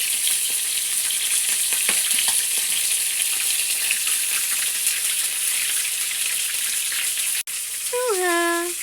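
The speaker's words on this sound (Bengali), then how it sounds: "এখন আবার ফ্রাই করে লাইছি, এখন লাড়িয়া দিলাম।" Food frying in a pan while being stirred, a loud, dense, continuous sizzle close up with occasional scraping, then a short tonal chirp near the end.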